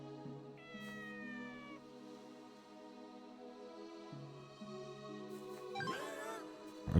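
A cat in the video game Inazuma Eleven Victory Road gives one short rising meow near the end, heard over steady, looping in-game background music.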